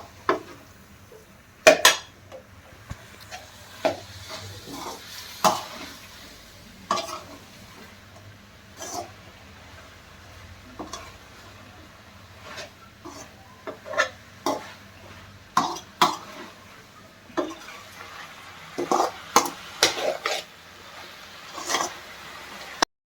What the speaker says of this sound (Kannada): ನಾನೀಗ ಮಿಕ್ಸ್ ಮಾಡ್ಕೊತಾ ಇದ್ದೀನಿ.